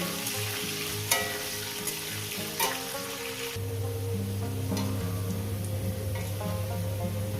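Potatoes with turmeric frying in hot oil give a steady, close sizzle with occasional stirring clatters; the frying grows denser and louder partway through, with no talk.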